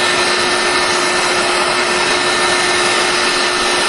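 A heat gun blows continuously while softening the corners of a Halo armour boot, a loud, steady whooshing roar with a constant whine, close and unbroken.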